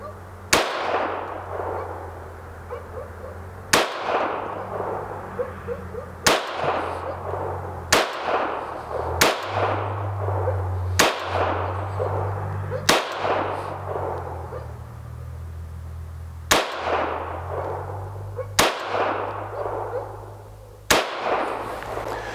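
Ruger Mark IV pistol firing ten Browning rounds, with sharp single shots spaced a couple of seconds apart, loud and close over a steady low hum.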